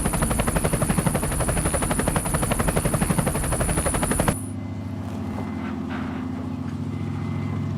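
An armed military helicopter roars close by with rapid rotor chop and a high whine, then the sound cuts to a quieter, steady low engine drone as if heard from inside the cabin.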